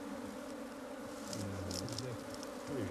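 Honeybees swarming over an open hive, a dense steady buzz with wingbeats wavering up and down in pitch, close and fairly faint, no talk.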